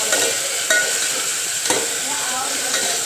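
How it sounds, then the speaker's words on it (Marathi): Tomatoes fry and get stirred in a pan for dal tadka, with chilli, curry leaves, cumin and mustard seeds already cooked in. A steady close sizzle runs throughout, and a few sharp scraping stirs cut through it. "आता हे टॅमॅटो करतून द्यायचा चांगला।"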